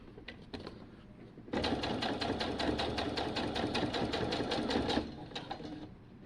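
A sewing machine runs in one steady burst of rapid needle strokes, about three and a half seconds long, as it stitches through the fabric layers around a crotch snap. It is close and loud, with quieter handling noise before and after.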